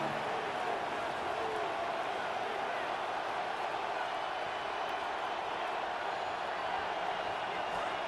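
A stadium crowd in the Madden NFL 27 football video game roars continuously at a steady, loud level, a dense wash of cheering with no pauses throughout.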